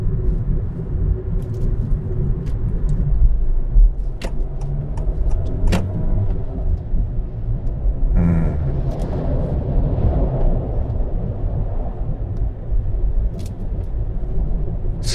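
A Honda Fit 4 cruises on a Tokyo expressway, heard from inside the cabin as a steady low road rumble and hum, with a few faint clicks and a brief whoosh partway through.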